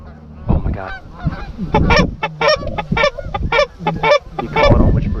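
Geese honking repeatedly as a pair comes in to land during a goose hunt in Iowa, loud and close in a dense run of calls, with hunters talking quietly underneath.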